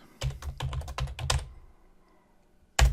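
Quick bursts of typing on a computer keyboard as a password is entered: a rapid run of close, crisp key clicks, a pause, then one louder final keystroke.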